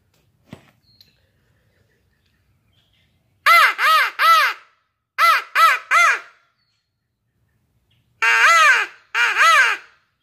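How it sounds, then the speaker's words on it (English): A crow caws in three bursts of two or three harsh calls each, loud and close against near silence, with a faint tap just before the first burst. "I've never heard a crow sound like that."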